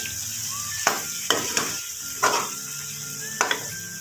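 Mint leaves go into a pot of sizzling beef gosht, with a continuous frying hiss broken by several sharp bursts of crackle and clatter as the leaves land and are stirred.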